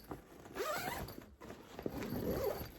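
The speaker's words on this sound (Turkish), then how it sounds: "Fermuarını açalım, içine de bakalım." Zipper being pulled open on a shoe travel bag, two close, clear rasping runs separated by a brief pause, with no talk over it.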